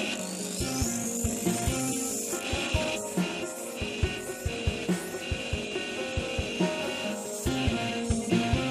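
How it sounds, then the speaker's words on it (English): Disc sander grinding a T800 CPU chip, a steady abrasive rasping with irregular scraping pulses as the part is pressed and shifted against the spinning disc, close and alone throughout. "Now that I've given them a hit on the disc sander"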